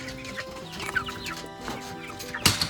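Chickens in a backyard breeding pen and coop cluck and murmur, several short calls at close range over a soft background, ending in a louder squawk.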